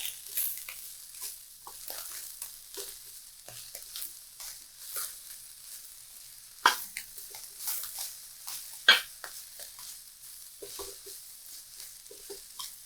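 Food sizzling in a pan during home cooking, a constant soft crackle and hiss broken by scraping stirs and a couple of sharper clanks against the pan.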